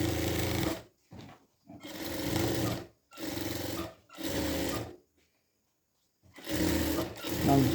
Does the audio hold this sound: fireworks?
no